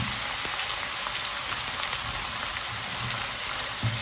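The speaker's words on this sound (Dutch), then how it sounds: "Kijk, een mooi lekker bakken een beetje." Extra onions frying in a pan over medium heat, a steady dense sizzle and crackle running throughout with no talking.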